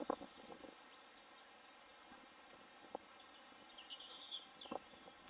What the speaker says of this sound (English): The birds know that the days are becoming longer, and of course they're using their bird songs